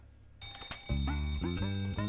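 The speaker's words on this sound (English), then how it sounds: "Fire alarm." A fire alarm ringing in a video game, a brief electronic chime followed by a rapid repeating bell-like tone, clear and fairly close, with no talking.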